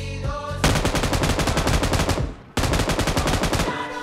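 An M249 light machine gun firing in a battle royale video game, two long rapid bursts of evenly spaced loud shots with a brief pause between them, close and punchy, with no talking.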